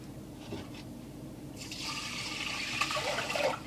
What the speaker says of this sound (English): you're gonna add your 4 cups of water